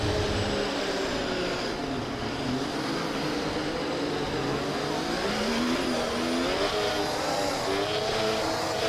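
A Formula 1 race car engine in the F1 24 video game howls continuously and loudly, its pitch sweeping up and down through gear changes with no speech over it.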